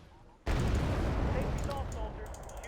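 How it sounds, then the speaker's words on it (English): Heavy artillery fire erupts abruptly in Wargame: Red Dragon, a loud booming blast followed by sustained rumbling bombardment with scattered crackling bursts during a Marine beach landing near Seoul. "I just want to get out of that artillery"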